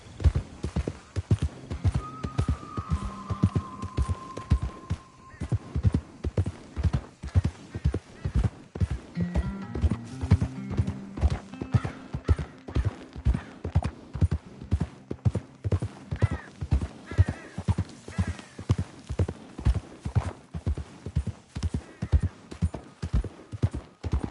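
Horse hooves in the video game Red Dead Redemption II beat out a steady, loud, galloping clip-clop rhythm that runs through the whole stretch, with a faint whinny-like tone early on and no talking.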